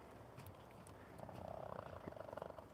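Farmed pheasants or peafowl in the snowy aftermath of a storm give a faint, low, rhythmic purring trill, quiet and close against a soft background hush.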